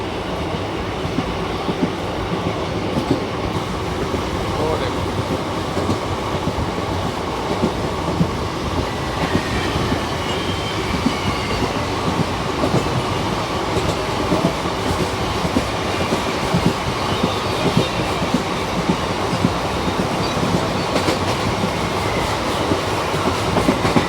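The Sabarmati-Jammu Tawi Express runs on rails, a steady loud rumble of wheels with rhythmic clickety-clack throughout, close and continuous with no talk.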